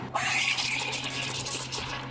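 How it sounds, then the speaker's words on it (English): Espresso machine steam wand steaming milk for an iced dirty matcha, a steady close hiss with rushing, bubbling texture that runs without pause. "what we're going to do first is steam up our milk"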